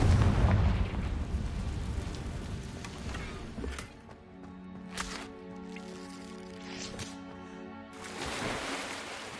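Confringo fire spell cast in Hogwarts Legacy, a loud booming explosion that rolls and rumbles over about four seconds, then fades into softer game ambience with a few faint thuds.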